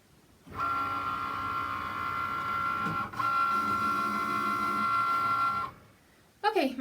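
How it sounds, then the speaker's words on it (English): Cricut cutting machine working through 65-pound light cardstock, a steady mechanical whir with a sustained tonal hum lasting several seconds, briefly interrupted midway, then stopping before a short clatter at the end. "my cardstock just finished cutting"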